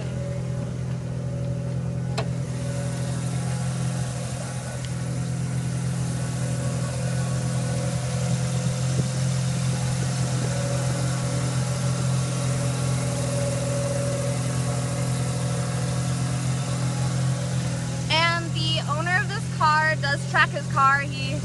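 A Mazda RX-7 Veilside tuned to 549 horsepower at the wheels idles with a steady, even low rumble throughout, with faint voices and brief chirpy sounds near the end.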